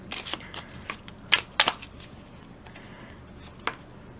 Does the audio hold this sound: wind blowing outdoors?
no